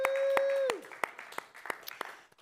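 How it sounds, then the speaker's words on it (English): After a sustained tone cuts off, a small audience at a Juneteenth talk offers a handful of scattered handclaps, sparse and fairly quiet, spread over a couple of seconds. "clap it up."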